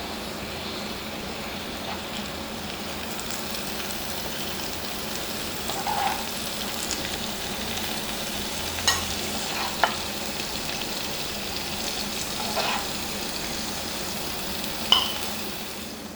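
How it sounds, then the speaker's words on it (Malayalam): Prawns frying in a pan for a Kerala-style prawn masala, a steady soft sizzle that runs throughout with a few brief pops and clicks near the end, no voices. "കൊഞ്ച് ഫ്രൈ ആക്കി എടുത്തിട്ടുണ്ട്"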